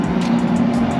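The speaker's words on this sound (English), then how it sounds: "It's very loud out here with all the traffic." Loud road traffic rushes past a food truck in steady, continuous surges, one vehicle after another with no pauses between them.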